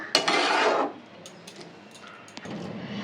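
Fried paneer stirred in a cooking pan while preparing green butter paneer, a short burst of scraping and rubbing up front, then a few faint clinks of the utensil against the pan.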